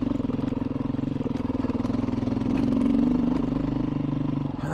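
A Beta off-road motorcycle lugs at low RPM in second gear while picking its way over rocks, a steady, close, throbbing putt that swells briefly in the middle with a faint clatter over it.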